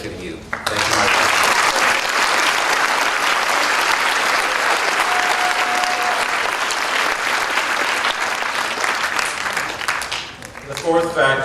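A school prize day audience gives teachers and staff a long, loud round of applause, dense steady clapping that fades near the end as a voice returns over it.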